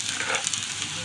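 Raw chickpeas land in a pan of frying potatoes, setting off a continuous close sizzle and hiss with light crackles, steady and fairly loud, with no talking.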